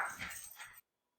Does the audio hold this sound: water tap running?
no